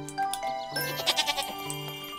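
Goat bleating in the Harvest Island video game, a series of wavering, nasal bleats close up over a steady tonal game music backdrop, with no talking.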